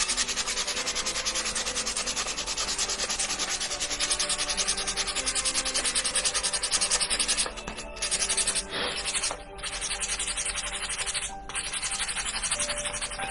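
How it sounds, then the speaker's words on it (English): Hand sanding of a painted wooden heart monogram held flat in the hand, a steady close rasping rub running continuously with a few brief pauses, no talking. "when I sand, I hold the whole thing pretty flat in my hand"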